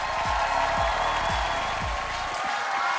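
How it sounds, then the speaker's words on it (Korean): A studio audience at a Korean comedy stage show claps to welcome parents onstage, a continuous loud wash of applause under booming music with strong rhythmic bass beats. "뜨거운 박수로 맞아주십시오"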